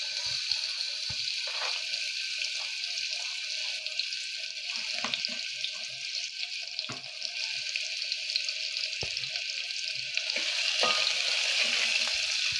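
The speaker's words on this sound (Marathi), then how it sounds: "आता मी त्याच्यात बारीक चिरलेला हा कांदा टाकते।" Finely chopped onion fries in hot oil for kaleji pota, a fairly faint steady sizzle broken by light clicks and scrapes of stirring, with no talking.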